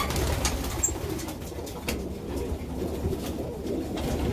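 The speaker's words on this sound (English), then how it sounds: "Whole lot of birds." Pigeons coo steadily in a loft, a dense continuous murmur of overlapping soft calls with a few brighter chirps, close and moderately loud, with no talking.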